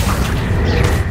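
A Confringo spell blasts in Hogwarts Legacy as one short, loud, booming crash with a dense, full-bodied burst.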